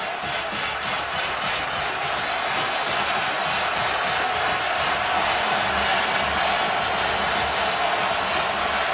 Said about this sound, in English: all of them are going to make some noise here to try to make it difficult for the Badgers